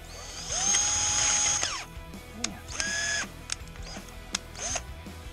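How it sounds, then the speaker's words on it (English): A small drill bit whirs up to speed and holds a steady whine for about a second, then pauses, followed by a shorter higher-pitched burst and a few clicks, drilling at the upper crankshaft seal of a 1970 25hp outboard motor. "A little drill bit."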